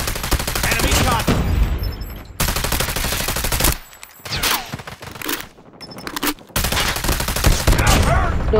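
Sustained automatic gunfire from the mobile shooter game Call of Duty Mobile, loud, dense bursts with brief pauses and a short near-silent gap midway, with faint speech mixed in.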